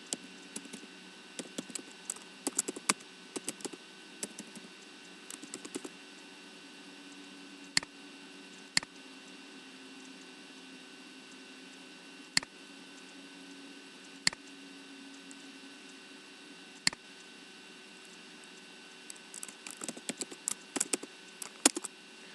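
Sparse clusters of keystrokes on a computer keyboard while code is typed, quiet and close, with single clicks spread between short bursts of typing.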